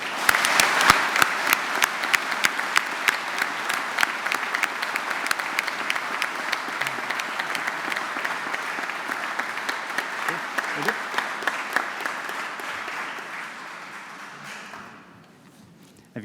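Audience applause at a gathering in Chelmsford thanking a university team, sustained dense clapping with sharp individual claps standing out, gradually thinning and fading toward the end.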